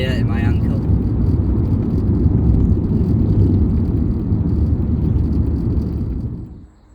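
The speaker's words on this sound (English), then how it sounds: "That's Boris been for a test drive" A car out on a test drive, fitted with heavy-duty parts and a stiff clutch: a steady loud engine and road roar throughout, close up, that fades out sharply at the end.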